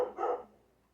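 A dog gives a single sharp bark, close and fairly loud, with a brief trailing echo and no talking.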